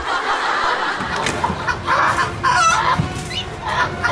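Chickens clucking with a rooster crowing in a lively backyard scene, fowl calls bursting out repeatedly at moderate loudness over a steady noisy background.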